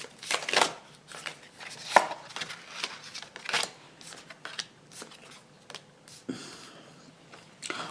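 Tarot cards being shuffled and drawn by hand, a close series of quick papery riffles, flicks and slaps with short pauses between, with no voice.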